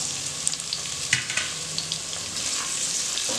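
Carrot, beans and potato frying in a pan for vegetable pulao give a steady soft sizzle, with a few light stirring scrapes and clicks near the start, no voices.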